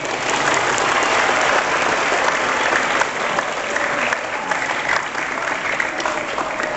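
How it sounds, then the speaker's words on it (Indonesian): Steady, dense clapping from an audience at an Islamic religious gathering for Isra' Mi'raj at a pesantren, sustained and fairly loud throughout with no pauses. "Tepuk tangan dulu"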